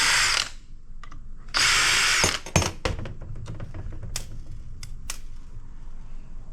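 Power tool unscrewing a metal plate from a circuit board, short loud whirring bursts followed by small clicks and clatters of screws and parts, close by with no talk.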